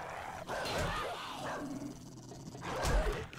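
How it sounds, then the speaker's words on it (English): A dog barks and yips in the survival video game 7 Days to Die, short bursts that rise and fall over a busy game soundscape, moderately loud. "Is that the dog?"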